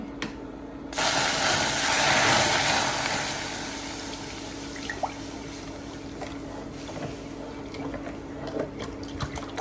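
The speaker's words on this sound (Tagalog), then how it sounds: "Lagyan natin ng tubig." Water poured into a hot pan while cooking kutsinta, a sudden loud hiss and sizzle that swells for a couple of seconds, then settles into a quieter crackling simmer with faint clicks.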